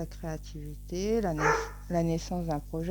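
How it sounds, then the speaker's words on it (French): A dog barks repeatedly in the background while someone talks steadily over it, the barks partly buried under her voice, with a constant low electrical hum throughout. "excusez-moi pour le chien"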